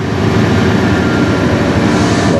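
CN freight train straining uphill from a dead stop after breaking apart in a tunnel, a loud, steady, deep rumble of locomotive engines droning continuously nearby with no talk.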